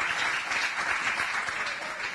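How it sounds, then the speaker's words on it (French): Steady audience applause for Dr. Jalil Benani at a university conference, a dense continuous patter of many hands clapping at an even level throughout. "je vous demande, s'il vous plaît, d'applaudir le docteur Jalil Benani"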